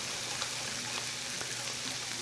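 A pot of grits simmers with a soft, continuous bubbling hiss that stays steady and close throughout.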